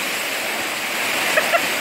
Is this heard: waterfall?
yes